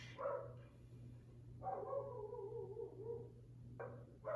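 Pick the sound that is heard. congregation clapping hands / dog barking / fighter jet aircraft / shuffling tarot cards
dog barking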